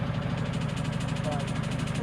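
A tractor engine idles steadily and close by on a farm beside a chicken coop, a constant low rumble with a faint rhythmic knock. No other sound rises above it.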